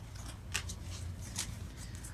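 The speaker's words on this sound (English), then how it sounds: "we're gonna go ahead and shuffle that again just to be sure" Tarot cards are shuffled by hand, a faint sequence of quick riffling snaps and soft papery brushes close by, with no talking.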